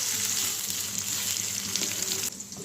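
Onions with green chilies fry in oil over a high flame, giving a loud, close, continuous sizzle with faint stirring, which drops away sharply near the end; no one speaks.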